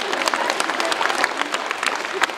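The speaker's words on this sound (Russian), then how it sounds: "Подарите себе теперь аплодисменты" An audience at a children's philharmonic concert of Peter and the Wolf claps in a dense, fairly loud burst of applause that carries evenly through the moment, with a voice faintly audible beneath it.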